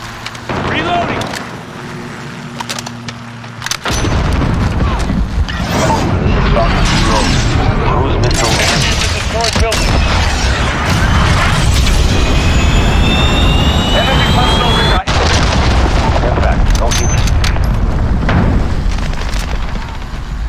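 Sustained gunfire and explosions from a Call of Duty Modern Warfare team deathmatch, loud and dense for nearly the whole stretch after a brief quieter opening, with heavy booms and rapid shots layered over constant battle noise.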